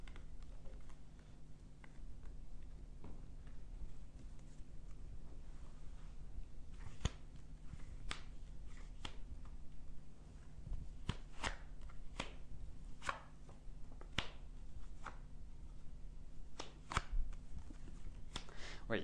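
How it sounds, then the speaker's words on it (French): Tarot cards are laid out one by one on a table during a live psychic reading, giving faint, scattered soft taps and slaps against a quiet room hum. "Pendant que je place les cartes"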